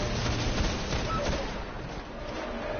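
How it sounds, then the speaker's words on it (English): Continuous, dense gunfire from a Templar enemy in the Destiny video game, a loud rattling barrage of shots and impacts that runs the whole time, with faint talk underneath. "that's the Templar shooting at me"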